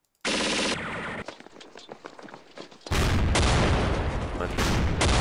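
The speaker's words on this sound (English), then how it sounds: "let's machine gun some guys and bait some shots" Machine gun fire in the World War II strategy game Campaign Series: West Front, Operation Sealion 42; loud sustained bursts with sharp shot onsets, a quieter rattling stretch between them and a dense, heavy final burst.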